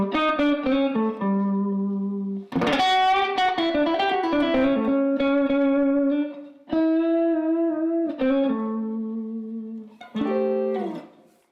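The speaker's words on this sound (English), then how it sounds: "This is the neck pickup, always going to give you the warmest sound." An electric guitar with a warm, clean tone plays sustained chords and notes, each ringing out and decaying before the next, with no voices.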